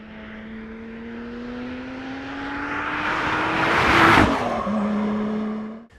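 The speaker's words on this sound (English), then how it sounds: "it's got the supercharged V6 engine in now" A Lotus Exige S with a supercharged V6 approaches on the road, its engine note rising and swelling to a loud peak as it passes close by, then dropping in pitch and fading away.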